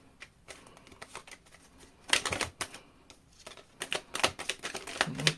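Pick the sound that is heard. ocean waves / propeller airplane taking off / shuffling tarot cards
shuffling tarot cards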